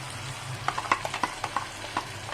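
Chicken pieces fry in a pan, a soft sizzle punctuated by a quick run of sharp clicks and pops, as if stirred or spattering, with no voices.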